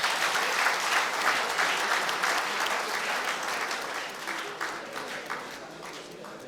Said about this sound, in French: si on peut applaudir pour eux, ça serait bien